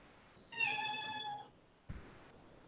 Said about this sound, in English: And my cat's meowing.